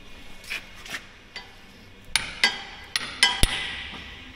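Sharp metallic hammer strikes ring out on a Cat D8K bulldozer blade during installation, a few light taps at first and then several harder, closer blows in an uneven rhythm.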